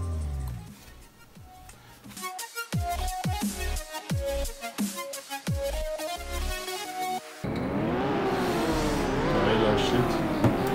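Racing video game car engine, first revving in sharp, rising bursts during a countdown, then roaring continuously with pitch climbing through the gears once the race starts, with someone talking over it.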